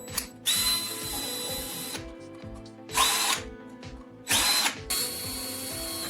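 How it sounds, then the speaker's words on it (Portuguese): Power drill boring a hole in a plastic bottle, three loud whirring bursts of a few seconds each separated by quieter gaps with the motor slowing down, close and alone. "Faça um furo na garrafa."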